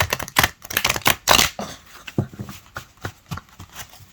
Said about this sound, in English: I honestly usually overhand shuffle because this is a workout.